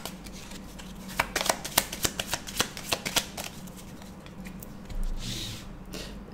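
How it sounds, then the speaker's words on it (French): Tarot cards shuffled by hand in a quick run of crisp riffling flicks, then a softer slide and brush as a card is drawn, close and alone. "on va pêcher une carte"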